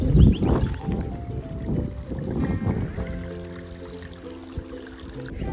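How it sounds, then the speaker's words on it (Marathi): Water in a paddy field at rice transplanting time, flowing through an earthen bund broken open with a shovel; a steady, close gurgling trickle that settles into a calmer flow. "ही खांड फोडलेली आहे, पाणी ट्रान्सफर होतं इकडचं इकडे."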